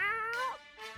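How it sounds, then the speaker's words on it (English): A single drawn-out cat meow from the video game 60 Seconds, clear and close, its pitch bending downward before a brief softer trailing sound. "Oh, the cat meowed."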